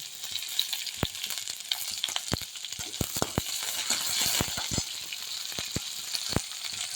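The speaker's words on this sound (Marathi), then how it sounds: "मिरच्या चांगल्या परतल्यानंतर त्यामध्ये कांदा घाला." Sliced onion hits a pan of hot oil with green chillies and cumin for soybean rice, giving a steady close sizzle and frying hiss broken by sharp clicks of a spoon stirring against the pan.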